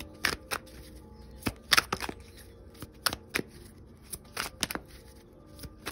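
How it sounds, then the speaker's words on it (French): A deck of playing cards is shuffled and handled in a quiet room, with a run of sharp, crisp riffles and snaps spread unevenly across the clip and no talking. "je vais juste prendre un autre jeu de cartes parce que je voudrais préciser l'événement"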